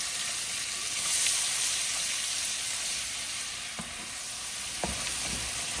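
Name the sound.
onion sautéing in canola oil and butter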